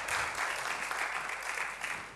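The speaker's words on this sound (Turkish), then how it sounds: "Alkışlayalım Umut kardeşimizi" Studio audience applause on a Turkish television talk show, a dense, even burst of many hands clapping that holds steady for a couple of seconds without talking over it.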